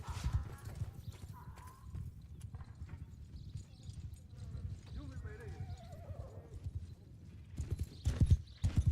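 In a strategy video game match, horse hooves clip-clop steadily at low volume, mixed with game sounds, a brief whinny and scattered clatter, while a commentator talks over them.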